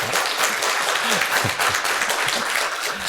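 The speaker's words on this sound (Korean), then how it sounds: "우리 잠깐 축하의 박수 해주시면 감사하겠습니다" A church congregation at a Sunday worship service claps in sustained, even applause to celebrate a graduation, with a few voices faintly beneath it.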